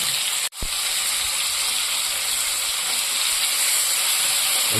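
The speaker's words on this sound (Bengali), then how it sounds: "তেলের মধ্যে সমস্ত চিংড়া মাছগুলো ছেড়ে দিয়েছি, কিছুক্ষণের জন্য ভাজতে দিয়ে দিলাম।" Shrimp frying in hot oil for a spinach-prawn dish, a loud, dense, steady sizzle heard close and alone after a brief dropout near the start.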